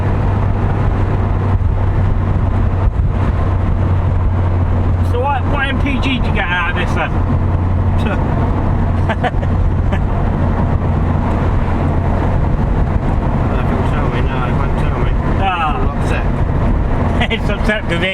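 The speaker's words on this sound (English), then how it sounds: "It's upset because the exhaust fell off." A 330 BHP Corsa VXR with its exhaust fallen off drones loudly and steadily from inside the moving car, with wind buffeting through the open windows and people talking over it.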